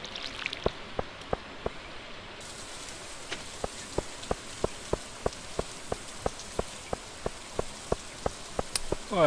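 Rain falls in the farming video game Stardew Valley, a soft steady hiss of drops overlaid by evenly spaced light ticks repeating at a regular rhythm, with no voices.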